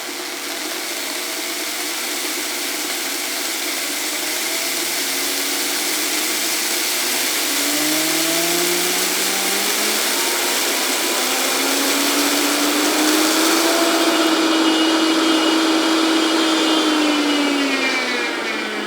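A blender grinds rice into flour, starting on low and climbing to its highest speed, its loud whirring motor pitch rising steadily throughout the long continuous run.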